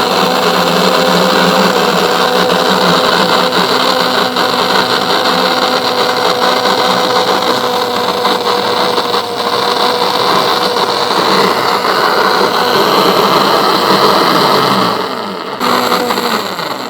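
An electric hand beater whips fruit cake batter with cooking oil in a bowl, a loud, steady motorized whir running close and continuous, then dipping briefly near the end before resuming.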